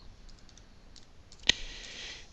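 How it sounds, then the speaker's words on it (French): Keys are typed on a computer keyboard to enter a folder title in Windows 7: sparse, soft, quiet keystrokes with one sharper click near the end, in a quiet room. "Nous allons taper donc chaton"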